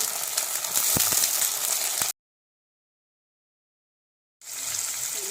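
Jackfruit fries in a kadai with onions and spices, giving a loud, steady close sizzle that cuts out to silence for about two seconds and then resumes.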